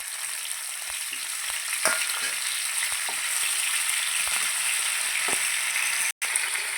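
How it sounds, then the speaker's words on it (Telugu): Chopped tomatoes frying in oil in a pan for a quick tomato pickle, giving a steady close sizzle with occasional sharp pops and spatters throughout, no one talking. "బాండిలో కొంచెం ఆయిల్ వేస్తాను ఇందులో మనం కట్ చేసి పెట్టుకున్నటువంటి టమోటాలు వేస్తున్నా"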